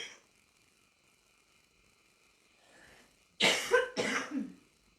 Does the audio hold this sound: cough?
yes